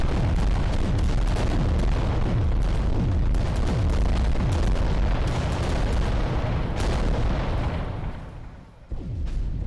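Volcano cannon fire from a Titan in Adeptus Titanicus: Dominus, a dense, loud barrage of booming blasts and explosions rolling continuously before tailing off at the end, with no talk.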